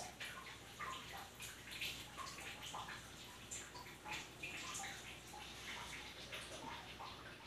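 Soft, steady water sloshing and trickling in a baby tub while an infant is washed, quiet and continuous with faint dripping, no talk.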